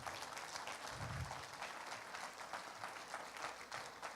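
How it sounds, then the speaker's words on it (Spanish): A church congregation applauds during a Pentecost service, a continuous wash of clapping that holds steady with a low rumble briefly swelling underneath. "Dale ese aplauso a Jesucristo"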